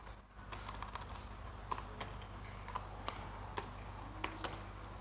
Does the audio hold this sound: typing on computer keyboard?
yes